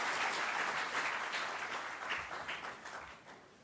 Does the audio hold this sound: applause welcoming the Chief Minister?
yes